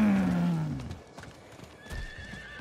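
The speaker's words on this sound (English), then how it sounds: "Let's go, horse!" A horse in the Diablo IV video game gives a loud whinny at the start, followed by faint hoofbeats and scattered in-game effects as the neigh fades.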